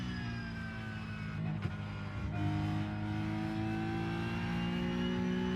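Porsche Cup race car in iRacing accelerating: steady, loud engine whine with rising harmonics as it climbs through revs, one brief shift-like dip, continuous and close with no talk.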